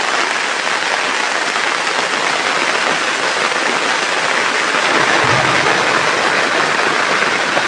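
Heavy rain pours nonstop onto a backyard home garden with potted lime plants, a dense, loud, unbroken hiss of falling water that stays level throughout, with no voices.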